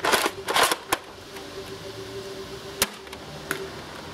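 Nerf sniper blaster modded with a Worker short dart kit (Ultra Pharaoh mod) fired outdoors, giving a few sharp clacks and thumps, one cluster near the start and single shots later, against a quiet windy background.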